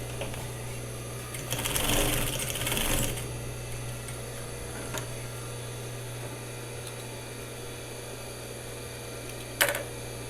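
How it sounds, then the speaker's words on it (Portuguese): Sewing machine backstitching over the end of a slipper's elastic, a dense mechanical stitching burst for about two seconds near the start against a steady hum, then quieter running with a sharp click near the end. "Nesse final eu vou passar um retrocesso."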